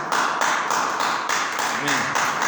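A church congregation claps together in a steady, close, rhythmic burst of applause, with no voices rising above the clapping.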